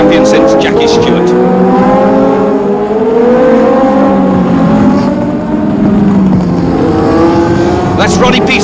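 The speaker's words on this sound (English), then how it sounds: "The vital race for James Hunt" Formula 1 race cars at the 1976 Japanese Grand Prix scream past, their high engine notes rising and falling in loud overlapping sweeps under continuous commentary.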